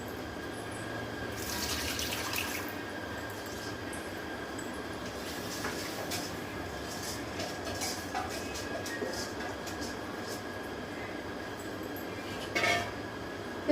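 Water running steadily into a pressure cooker holding rice and spice paste, a continuous rushing hiss lasting the whole stretch at moderate level, with no talk over it.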